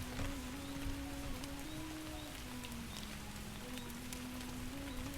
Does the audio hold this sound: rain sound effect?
yes